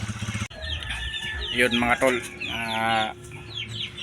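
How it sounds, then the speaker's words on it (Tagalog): Small backyard chickens cluck and call repeatedly after days of rain and flooding, close by, while someone talks over them. "update tayo sa aking mga munting mga manok mga tol"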